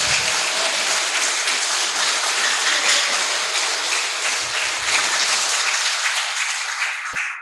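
A church congregation at a Sunday worship service applauds in a dense, steady wash of clapping that carries on for several seconds and fades slightly at the end.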